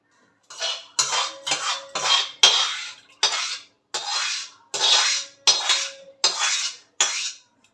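A ladle scraping cooked mutton out of a pot, about a dozen regular metallic scrapes in a steady rhythm, loud and close, with no voices.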